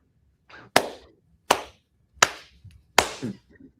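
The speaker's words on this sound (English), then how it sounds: "No, that's a Denzel clap." Four slow, deliberate hand claps, a Denzel clap, ring out sharp and close with even gaps and near silence between them.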